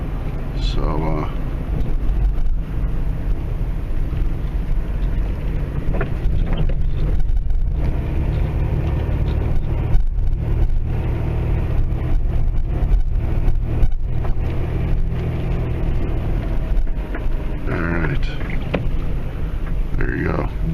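A car drives along a road through woods near Archer Avenue. Its steady low rumble mixes with wind buffeting the microphone, and a voice talks over the constant road noise.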